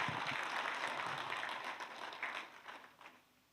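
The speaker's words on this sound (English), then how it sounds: "So let's give a round of applause." Applause from an audience at an event in Las Vegas, a dense patter of clapping that stays steady at first and then tapers off and fades near the end.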